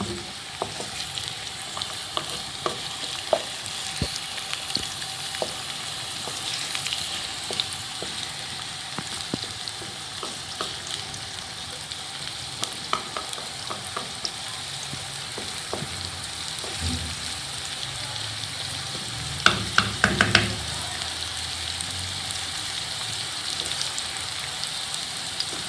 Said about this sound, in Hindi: प्याज को अच्छी तरह आपने सौते करना है